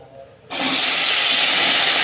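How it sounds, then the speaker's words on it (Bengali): Potatoes dropped into hot oil in a pan burst into a loud, sudden hiss that settles into a steady, intense frying roar with no talking. "তো আলুগুলো এবার ছেড়ে দিয়েছি"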